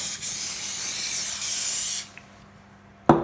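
An aerosol can of butter cooking spray greases a baking mold for a lemon brownie, giving a loud, close hiss for about two seconds with a brief dip in the middle. A short faint spurt and a sharp knock follow.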